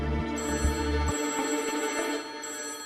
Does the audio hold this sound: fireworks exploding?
no